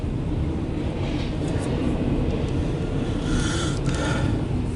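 CSX Q136-23 eastbound intermodal freight train passing Town Station in Maryland, a steady broadband rumble and roll of wagons holding for the whole stretch with faint higher squeals, loud and close throughout.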